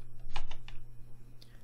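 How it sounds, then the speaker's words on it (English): Computer keyboard keys pressed while setting up a recording in Cakewalk Sonar Platinum: a few sharp, close clicks scattered over a second and a half, sitting above a steady low electrical hum. "So let's press R, and now I'm going to press spacebar to stop recording."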